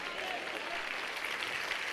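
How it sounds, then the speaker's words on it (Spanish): A church congregation applauds during a sermon, producing dense, steady clapping that holds at an even level for the whole two seconds. "Hay un aplauso a Dios"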